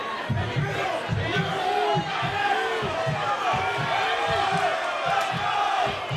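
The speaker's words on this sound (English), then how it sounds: "Crowd coming alive now." A crowd at a kickboxing fight night cheers and shouts in rising waves, loud and dense, with a steady roar of many voices throughout.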